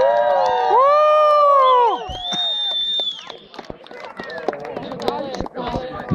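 Crowd around a campfire letting out a loud cheer and shouts that swell and then fade into scattered voices and claps, near and lively.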